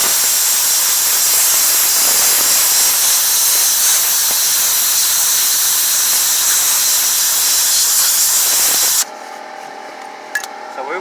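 Compressed air blasting grease off a Kawasaki FH580v small engine, a loud steady close hiss that cuts off abruptly, followed by quiet clicks and handling noises.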